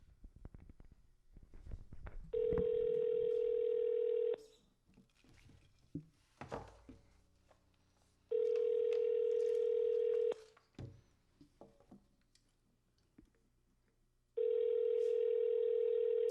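A steady telephone dial tone plays over a speakerphone in three long bursts of about two seconds each, separated by gaps holding quieter rustling and handling noise, loud and close with no speech.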